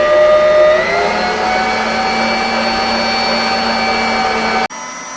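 A stand mixer kneads Italian bread dough with a loud, steady motor whine and a constant grinding hum that holds level for several seconds, then cuts abruptly to a quieter drone near the end.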